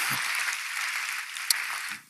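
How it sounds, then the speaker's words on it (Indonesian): A church congregation claps together in a sustained, dense burst of applause that fills the room evenly, then tapers off quickly at the end. "Berikan tepuk tangan kita untuk Tuhan"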